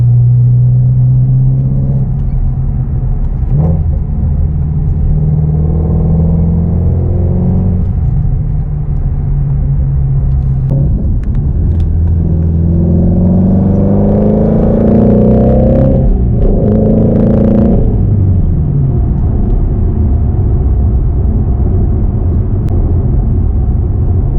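A Shelby Mustang GT350 engine rumbles steadily from the passenger seat inside the cabin, rising and falling as it accelerates through gears, loud and continuous throughout.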